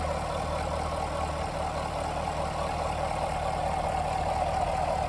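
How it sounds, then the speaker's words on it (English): A 2023 Chevy Camaro 1SS convertible with a modern pushrod V8 of 11.5:1 compression, running at a steady idle with a deep, even rumble, close and continuous, without speech. "the sound that you get from a pushrod, especially a highly modern one, is just phenomenal"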